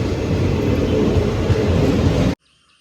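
A train pulling out of Muthalamada railway station in Kerala, a loud, steady low rumble and rolling clatter close by, running continuously before cutting off abruptly into silence.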